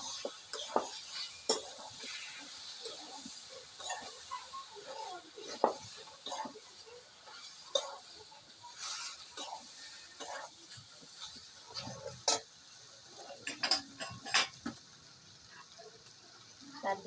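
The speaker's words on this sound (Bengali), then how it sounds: "কচুর গাঠি দিয়ে নাড়াচাড়া দিয়ে ভেজে নেব।" Taro stems fry in a pan while being stirred, faint sizzling broken by repeated soft scrapes and clinks of a spatula at an uneven pace.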